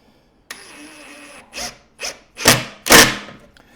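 A power drill drives pocket hole screws into wood for a cabinet build: a steady motor whine, then several short rising bursts of grinding as a screw bites and seats, each louder than the last, close and alone.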